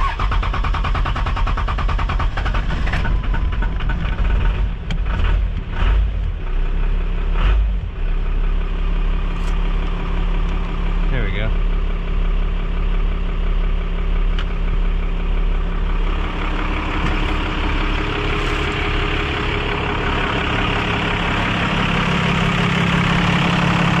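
A truck engine idles steadily and loud at close range, a deep continuous rumble with a few brief knocks early on and a slight shift in tone partway through, no talking.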